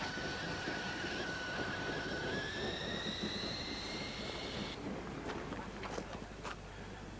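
A 1945-built LMS Black Five steam locomotive runs with a steady rumbling roll and a long high wheel squeal that rises in pitch and then cuts off, followed by faint clicks.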